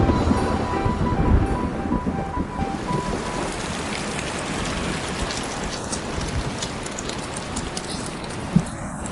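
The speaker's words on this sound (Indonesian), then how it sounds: "Sekarang hujan kan?" Rain pours steadily, a dense, close hiss of drops hitting surfaces that holds throughout, with one brief louder knock near the end and no talking.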